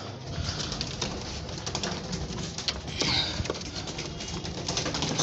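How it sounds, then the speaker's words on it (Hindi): Pigeons being let out of a cage coo and rustle softly, with faint wing flaps and shuffling over a steady background noise, no speech. "सब कबूतर मारे बाहर आ रहे हैं, पानी वगैरह अपना पी ले बाहर आके।"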